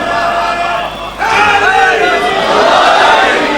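A congregation joins in a loud religious chant at a Muharram majlis in an imambargah in Multan, many voices rising together after a brief dip and holding strong to the end.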